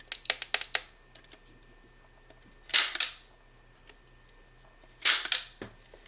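A SIG Sauer P227 .45 ACP pistol's double-action trigger is dry-fired, with a quick run of light mechanical clicks followed by two louder, sharper snaps of the hammer falling, spaced a couple of seconds apart, close up with no speech.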